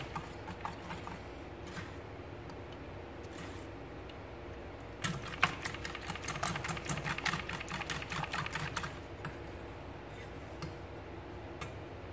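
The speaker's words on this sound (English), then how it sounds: "Whisk it good." Egg batter for French toast is whisked in a bowl, quiet scattered clicks followed by a burst of rapid rhythmic ticking strokes in the middle, then a few more sparse taps.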